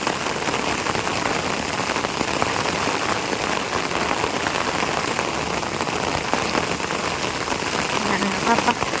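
Steady rain falling on an avocado garden, a dense, even hiss of drops pattering on leaves and ground, constant and moderately loud throughout with no break.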